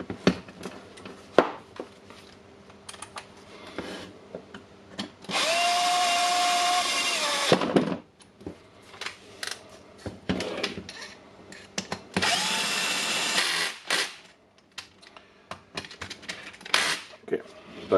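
A Milwaukee PLH 32 XE hammer drill being reassembled as a power tool drives in two bolts, giving two sustained whirring runs of a couple of seconds each, with clicks and handling noises and someone talking in between.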